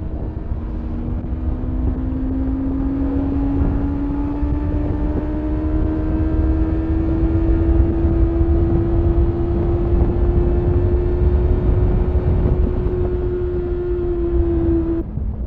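A 2009 Honda CBF 600 S motorcycle engine runs continuously with a steady drone and a slowly rising pitch, as if accelerating while riding, loud and without talk.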